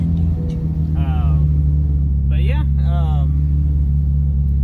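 A Mitsubishi Mirage with a built 2.0L engine drives along with a steady, loud low drone from inside the car, while people talk over it.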